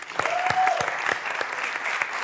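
Applause from an audience at an interview event, a steady dense patter of clapping hands sustained throughout, fairly close and loud with no talk over it.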